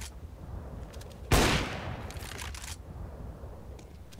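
A single sharp gunshot from the Counter-Strike: Global Offensive video game cracks out loud and close, standing alone against a low background hum.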